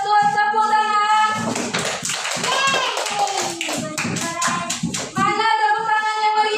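Children in a primary school maths classroom clap together for a classmate who answered correctly, a burst of rapid rhythmic clapping mixed with a teacher's and kids' voices before and after.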